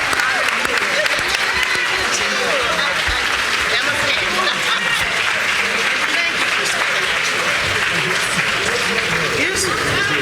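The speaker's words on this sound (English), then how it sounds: "Give the panel another hand." An audience applauds a panel discussion on attacks on DEI, with steady, dense clapping that carries on loudly and evenly throughout.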